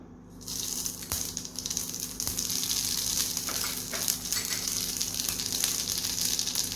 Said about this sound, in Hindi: ये अच्छे से गर्म हो गया है। इसमें अभी मैं डालने वाली हूँ थोड़ा राई और जीरा।